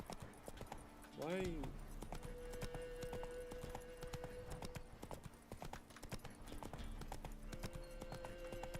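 Roach the horse's hooves clip-clop in a steady, quick gallop in Witcher 3, with a brief whinny near the start and someone talking over the rhythmic hoofbeats.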